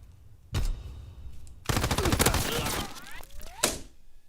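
Machine gun fire in the video game Call of Duty: WW2 comes as a short burst, then a longer, dense rapid-fire stretch and a final shot. A few faint game sounds fall in the quieter gaps.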